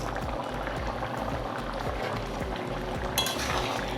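An open pot of elephant foot yam curry boils with a soft, steady bubbling, quiet and close, with small occasional clinks in the background.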